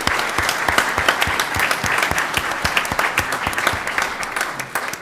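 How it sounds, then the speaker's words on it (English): Sustained audience applause for new school principals and assistant principals at a school board meeting, a steady wash of many hands clapping at moderate loudness throughout, with no talk. "Everyone give a big round of applause to our new principals and assistant principals."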